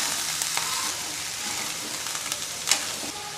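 Boiled chickpeas, mung beans and moth beans are stirred in a hot pan, a steady close sizzle laced with light scraping strokes and one sharper clatter near the end.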